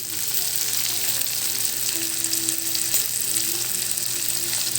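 Bitter gourd frying in a pan while being stirred, a steady, dense sizzle that holds evenly throughout with faint stirring underneath.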